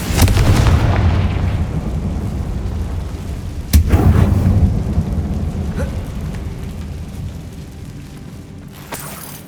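Confringo fire blast spell in Hogwarts Legacy, a loud booming explosion that rumbles and decays, followed by a second sharp blast that trails off, with no talk.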